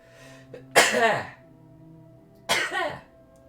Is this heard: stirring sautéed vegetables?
no